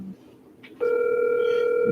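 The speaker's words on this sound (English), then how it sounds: "I'm gonna try and call Rooster." Telephone tone while placing a call: after a brief faint rustle, a steady sustained beep begins and holds, loud and close.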